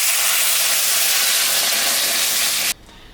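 Water hits a hot pan of spiced tangra fish curry base and sets off a loud, close burst of steaming sizzle and hiss that holds strong for almost three seconds, then cuts off sharply into a quiet low bubble.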